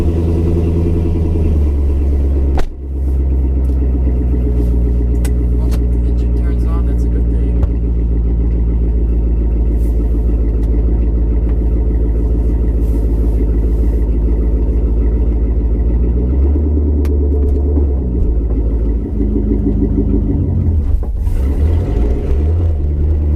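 A C6 Corvette engine fitted with MSD 2-step launch control burbles at low revs, a loud, deep rumbling idle that holds steady with a brief dip and slight rev changes near the end.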